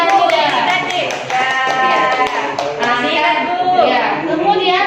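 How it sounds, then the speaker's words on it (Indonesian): Classroom applause during a school lesson: a crowd of children claps steadily while their voices call out and cheer loudly over the clapping throughout. "Berikan aplaus kepada yudikatif."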